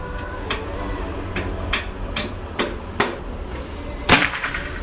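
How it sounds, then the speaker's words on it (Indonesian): A Predator Tactical CNC PCP air rifle fires a single sharp, close crack near the end, after a run of lighter evenly spaced clicks and taps against a faint background. "ini tembakan terakhir."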